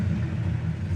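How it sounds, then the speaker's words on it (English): A 1966 Pontiac Le Mans V8 engine idles with a steady, low rumbling burble, heard close and alone for about a second. "It's got a nice idle down here too"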